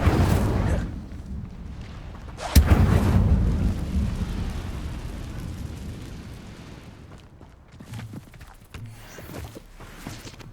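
Fire spell cast in Hogwarts Legacy: a sudden loud whooshing burst near 2.6 seconds swells into a rumbling roar of flame that slowly fades, over low ambient game rumble, with faint thuds near the end.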